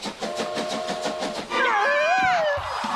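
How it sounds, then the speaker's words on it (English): A train rolls close by with a rapid, rhythmic clatter of wheels, then a loud, wavering whistle blares over it for about a second before the rumble continues, heard as playback from a watched video. "The train was gonna hit them."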